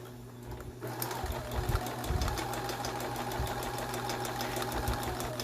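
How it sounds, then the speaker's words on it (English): A sewing machine stitches a school face mask, its motor whirring steadily close by after a short quiet start, with small knocking pulses from the needle. "you're going to sew all the way down to the bottom"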